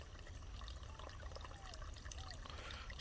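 Water pouring to refill crops in the video game Pumpkin Panic, a quiet steady trickle with faint splashing, soft and continuous.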